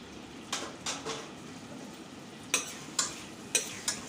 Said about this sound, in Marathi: जिरा आणि लसूण छान असं आपण परतून घेऊया थोडं लालसर होईपर्यंत